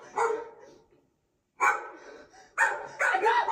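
A dog barks in loud, close bursts at a woman who is being attacked, with short gaps of silence between the outbursts.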